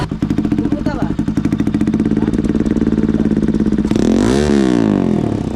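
A motorcycle engine running steadily with a fast, rhythmic putter at close range, then revving up briefly near the end.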